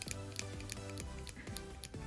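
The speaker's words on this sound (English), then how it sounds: "scissors." Scissors snip through craft material for a homemade Huggy figure, cutting holes in the torso, giving a quick series of sharp, close clicking cuts at an irregular rhythm.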